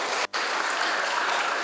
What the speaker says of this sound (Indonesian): Tepuk tangan untuk Bu Mardona.